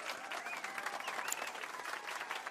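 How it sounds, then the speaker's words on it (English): A short burst of applause from a crowd after a piano performance in Final Fantasy VII Rebirth, steady clapping at moderate volume with no voices over it. "let's give our pianist a warm round of applause"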